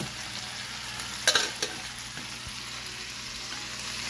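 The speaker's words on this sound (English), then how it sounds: "Is it best to use small okra, Mama Kip, when you're frying it like this?" Okra fries in bacon grease in a pan, a soft steady sizzle close by, broken by a short burst of scraping and clatter as the pieces are stirred, then settling back to a quiet hiss.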